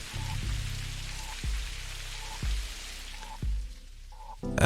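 Rain falls steadily outside in the video game Necrobarista, a soft wash of patter with a few dull thuds repeating about once a second, ending in a brief louder burst.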